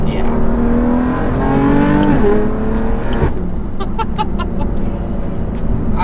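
A Varis widebody BMW M4 engine revs loud and close from inside the cabin, its pitch climbing through gears before a sharp downshift blip, followed by a lower idle with faint crackles.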